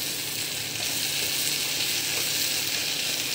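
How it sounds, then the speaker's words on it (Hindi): Ivy gourd and chana dal fry in a pan with a steady, loud, even sizzle that holds throughout, with no voices. "चलिए इसको थोड़ा देर और भूनने देते हैं, थोड़ा फ्राई होता है तो अच्छा लगता है।"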